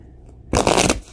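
Tarot cards are shuffled by hand in a short, crisp riffling burst lasting about half a second, close and clear after a near-silent pause.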